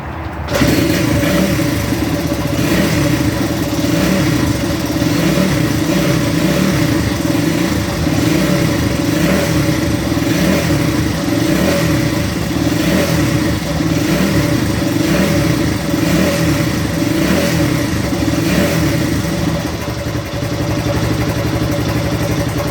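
A 1973 Honda 125 motorcycle that sat in a barn for 39 years runs steadily up close, its engine note rising and falling through several revs and continuing without a break.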